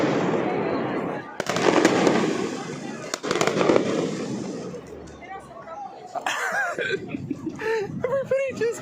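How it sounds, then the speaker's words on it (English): Amateur fireworks going off in a public square: loud crackling bursts and sharp bangs dominate the first half, then fade as laughter and excited voices take over near the end. "everybody was fucking booking it out of there when the amateur firework display started"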